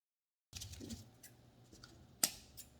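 A single pair of scissors snips through a line while a staghorn fern is tied onto a board, a close crisp cut standing out over soft handling noise and moss rustle.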